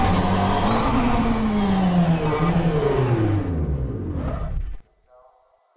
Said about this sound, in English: I still think you hear the turbo, don't you?